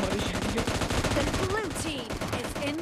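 Rapid automatic gunfire in the mobile shooter game PUBG Mobile rattles continuously with a tight rhythm, while someone talks over it.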